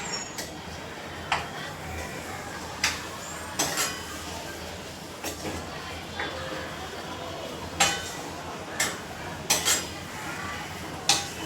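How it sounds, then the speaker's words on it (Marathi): A spoon stirs cardamom powder into mango sheera in a pan, scraping steadily and clinking sharply against the metal about a dozen times at irregular intervals over a low background hum. "आणि व्यवस्थित हलवून घ्यायचं"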